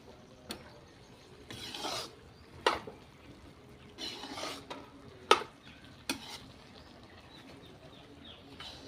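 A spoon scraping and stirring ridge gourd curry in a pan, with a few intermittent soft scrapes and sharp clinks against the metal, quiet and unaccompanied by talk.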